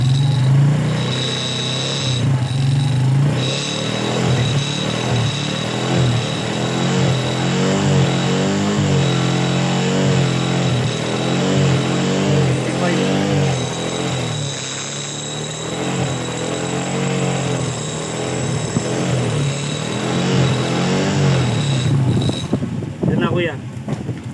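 A car engine idles and is revved during an alternator voltage test, a steady close mechanical drone with rising and falling tones, with some wind noise.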